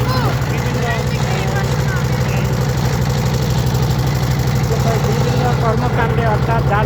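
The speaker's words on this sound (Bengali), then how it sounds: "এই দেখেন আমাদের এই যে আমাদের বোট যাচ্ছে" A motor boat engine chugs steadily on Mahamaya Lake, a loud, low, rhythmic putter that runs continuously, with faint voices and water sounds in the background.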